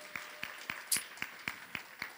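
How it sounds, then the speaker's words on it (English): A church congregation at a Palm Sunday celebration service claps for Papa, eight or so sharp, evenly spaced claps heard fairly faint, like a single steady clapper in a reverberant hall. "clap for Papa for me"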